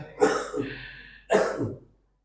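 A man at a Ramadan festival quiz event clears his throat and coughs in two harsh, close bursts about a second apart, with nobody talking over them.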